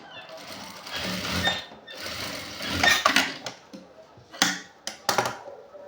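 Sewing machine stitching khadi cloth shorts, running in short bursts of rapid whirring that stop and start, with a few sharp clicks and a person talking between runs.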